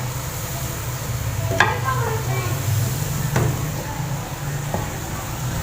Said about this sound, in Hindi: पालक शामिल करके हम इसको अच्छे तरीके से जो है वो मिक्स करेंगे।